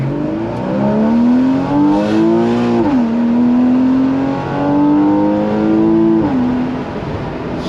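A Porsche Boxster flat-six engine with the top down revs loudly and steadily, climbing in pitch through the gears with brief dips at each shift, close and dominant.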